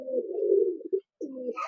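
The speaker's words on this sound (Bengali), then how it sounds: "পুরো একদম চনমনে পায়রা" Teddy high-flying pigeons coo in two low, throaty phrases with a brief pause between, close by and clear, with no voices present.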